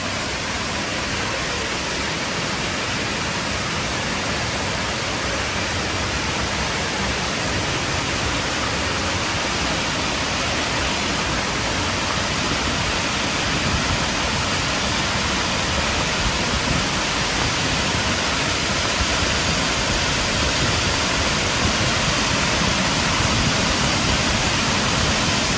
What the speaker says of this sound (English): And here we are coming up on the waterfall